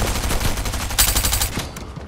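Rapid bursts of gunfire in the video game Fortnite, loud and continuous with a sharp burst near the middle, no talk over it.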